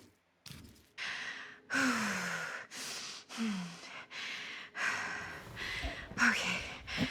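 Loud, heavy breaths come close to the mic, a series of long sighing exhales and gasping inhales in an uneven rhythm, each pause broken by another drawn-out breath.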